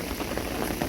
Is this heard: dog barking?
no